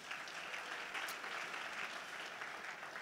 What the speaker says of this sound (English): a very special round of applause for them again